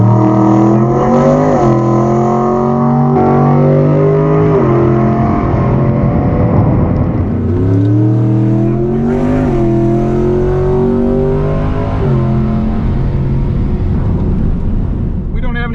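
A loud car engine revs hard and climbs through rising gear pitches, shifting several times as it accelerates, close and continuous.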